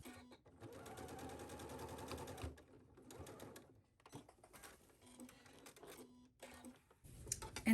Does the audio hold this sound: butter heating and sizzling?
no